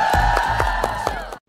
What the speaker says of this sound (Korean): 다시 한 박수 부탁드립니다